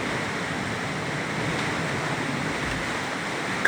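Big ocean waves surge against and beneath a treehouse, a loud, continuous roaring wash of surf with a brief louder thump at the end, heard alone without talking.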